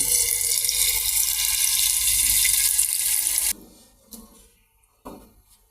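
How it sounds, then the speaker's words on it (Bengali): Boiled water poured into a biryani pot in a home kitchen: a loud, continuous rushing pour for about three and a half seconds, then a stop followed by quieter knocks and movement. "আর এখন দিয়ে দেবো আমি পানি ফুটানো পানি"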